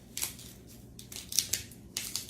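A knife cuts off the tough ends of asparagus spears in a home kitchen, with several short crisp snips and crunches close by and brief pauses between them.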